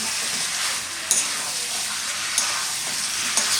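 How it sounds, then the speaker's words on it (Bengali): A thin curry of small wild duck is sautéed in a pan. A steady hissing sizzle plays close up, broken by three sharp spatula scrapes spaced about a second apart. "দেখুন এটা কিছুক্ষণ আমি কিন্তু 10 মিনিটের মতো কষে নেব, সুন্দর করে কষে নিচ্ছি"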